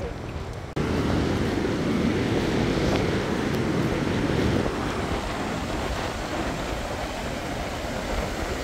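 Surf washing onto a beach under steady wind noise, a broad continuous roar that holds loud for the whole stretch after a brief quieter start; no voices.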